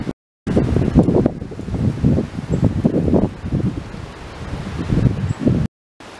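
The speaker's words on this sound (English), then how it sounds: "It's still pretty breezy though." Gusty winter wind buffets the microphone in loud, rumbling bursts, with rustling in between and brief dropouts of silence.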